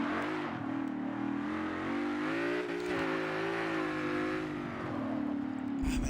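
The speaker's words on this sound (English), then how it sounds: "This car does take off." A race car in Forza Motorsport 7 revs hard and accelerates, its engine a steady, loud, buzzing whine that climbs and holds through the run, with no voices.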